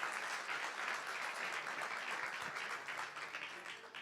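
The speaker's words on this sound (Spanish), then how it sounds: "Dale un aplauso al Señor." A church congregation breaks into steady, dense applause that holds at an even level throughout, a crowd of many hands clapping at moderate distance with no talk over it.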